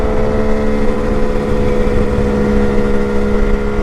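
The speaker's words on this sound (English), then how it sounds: "Then it just revs up a lot quicker and freer." A Kawasaki KH500 H1 motorcycle engine runs near and loud with a steady, buzzy mechanical drone, holding an even pitch throughout with no talking.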